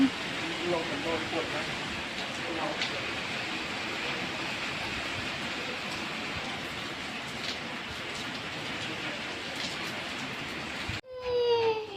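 Steady, dense hiss of rain falling throughout, broad and continuous, ending with a brief louder rustle.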